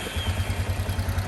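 A Yamaha Grizzly 350 ATV engine idles after a carburetor replacement, a steady, even low chug with light mechanical clatter, heard close and alone.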